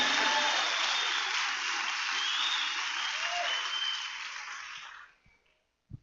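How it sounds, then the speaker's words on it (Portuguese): A church congregation applauds in a dense, sustained wash of clapping that holds steady for several seconds, then fades out quickly, leaving near silence. "Dá um aplauso ao Senhor pela sua família."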